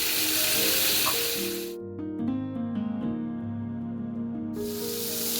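Potato pieces sizzle in hot oil in a pan where pointed gourd (potol) was just fried with salt and turmeric, for a vegetarian potol-alu curry; a steady close hiss runs throughout, interrupted midway by a stretch of tonal, music-like sound.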